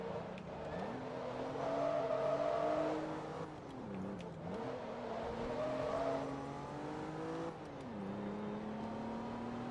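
A Mitsubishi car engine revs and races in the Forza Motorsport 2 video game, loud and steady, its pitch climbing and dropping through gear shifts, with no voices.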